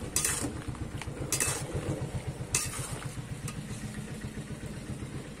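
Boiled mango with salt and turmeric is stirred in a wok, giving steady rhythmic scraping and soft clinks, with a few sharper metallic knocks over a low background hum.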